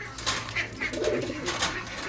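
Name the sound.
pigeons cooing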